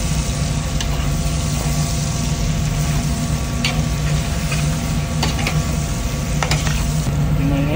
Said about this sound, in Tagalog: Stir natin.